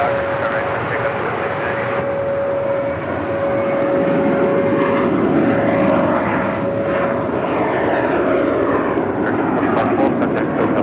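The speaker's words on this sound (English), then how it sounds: "I do believe that sound is coming from this brand new Neo." Brand new Airbus Neo jet airliner engines roaring loudly and steadily at LAX, a sustained powerful rumble with a whining tone, close and dominant throughout.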